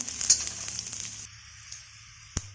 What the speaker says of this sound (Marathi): कांदा थोडा भाजत आला की मग त्याच्यामध्ये आलं लसूण आणि मिरची टाकून आपण ते सुद्धा भाजून घेऊया.